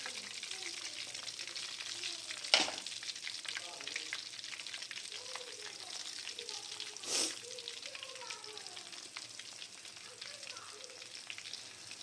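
Chicken pieces deep-fry in hot oil for crispy fried chicken, giving a continuous soft bubbling hiss with two brief louder crackling bursts. There is no talk.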